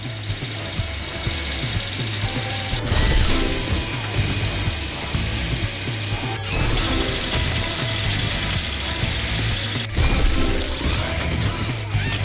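A drill whirs and ratchets steadily in the Paw Patrol: Adventure City Calls video game, a dense mechanical grinding with sharp clanks near 3, 6.5 and 10 seconds over continuous game music.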